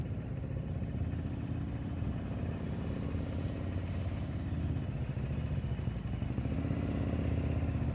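A motorcycle engine runs steadily at low speed during advanced slow-speed riding practice. The idle-to-light-throttle rumble is continuous and fairly close, with slight swells as the throttle is held up.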